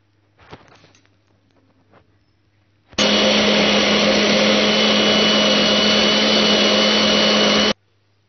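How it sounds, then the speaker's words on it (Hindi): A blender whirs through a jar of squeezed tomatoes for homemade ketchup, a loud, steady motor roar starting abruptly after a few faint knocks and stopping cleanly about five seconds later. "इसे ब्लेंड करती हूँ।"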